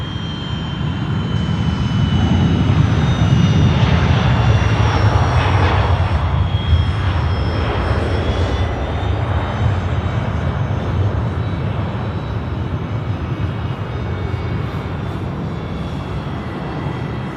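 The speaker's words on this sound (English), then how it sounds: "It's the final A380 departing now on the show, departing to Dubai, about to rip it up past here at Sheps Mound." An Emirates Airbus A380 departs Sydney Airport at night to Dubai, its jet engines swelling into a loud, sustained roar with a high whine. The roar peaks early and then slowly fades as the aircraft climbs away.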